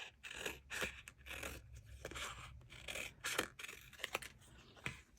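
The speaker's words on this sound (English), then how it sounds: "So I'm going to cut up to the 4th row or through it." Scissors cut through a sticker sheet in a run of close, irregular crisp snips and papery scrapes, fairly quiet and without talk.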